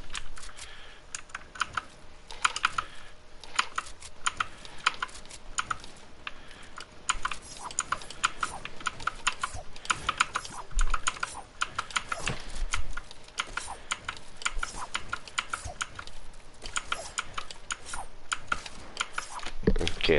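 Rapid, continuous computer keyboard typing during a Fortnite game session, with dense irregular key clicks and clatter filling the whole stretch close to the microphone, and no talk over it.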